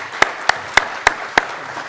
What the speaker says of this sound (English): A special applause to Laurie here for her.